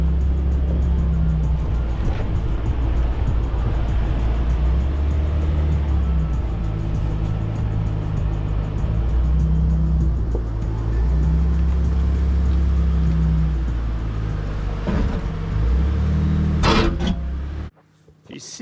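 A Ford Raptor truck's engine rumbles steadily at low speed as it creeps over an obstacle on a dirt road, with shifting tones, a few knocks near the end, and then the engine note suddenly drops away.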